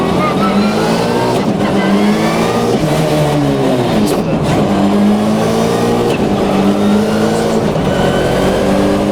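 A Subaru Impreza WRC rally car driven on a public road, its engine revving hard and loud from inside the cabin, rising and falling through close-ratio gear changes over a steady roar.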